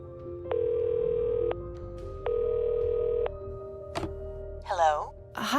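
A phone call ringing in the video game Cognition: An Erica Reed Thriller: two long electronic ring tones, then a click and a brief voice answering.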